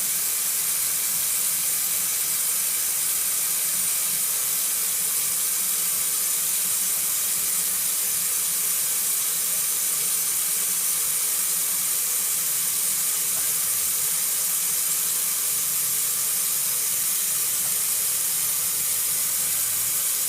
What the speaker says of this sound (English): we're going to start with a sponge rinse